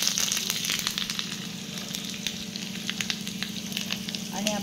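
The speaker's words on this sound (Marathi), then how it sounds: "तेल व्यवस्थित गरम झालेले आहे। यामध्ये जिरा टाकून घेऊया, कढीपत्ता टाकून घेऊया" Cumin seeds, curry leaves and coriander leaves sizzle steadily in hot oil for a tempering poured over chutney, with a dense crackling hiss, small pops and a low ongoing fry, close and continuous with no talk.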